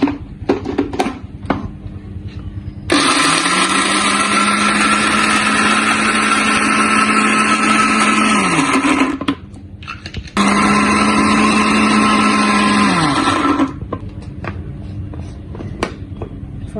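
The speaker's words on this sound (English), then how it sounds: "So we're going to grind these as well." A food processor grinding nuts for honey-glazed granola, running loud and steady in two long pulses of several seconds each with a brief stop between, with low handling noise before and after.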